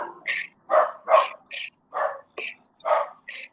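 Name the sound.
dachshund barking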